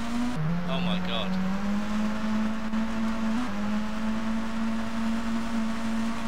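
An engine drones steadily as a car drives in the video game Rust. The loud, continuous hum shifts pitch slightly as the vehicle moves, with faint background sounds.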